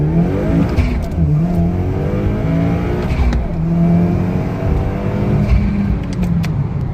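A 2015 Subaru WRX running flex fuel at about 400 horsepower pulls hard through the gears, its loud engine note climbing steadily in pitch and close to the listener, with no voices over it.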